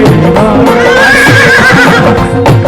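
A horse neighs loudly in a long, full whinny, with clip-clop of hooves mixed into a dense, busy sound.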